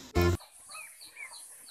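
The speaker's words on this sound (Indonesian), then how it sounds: "Wow, ada anak bebek teman-teman." Faint high peeping chirps of ducklings repeat several times after a brief loud burst at the start.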